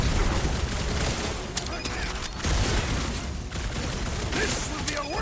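Rapid gunfire in the Guardians of the Galaxy video game, dense bursts of shots crackling continuously through a chaotic battle, with voices and combat effects layered throughout.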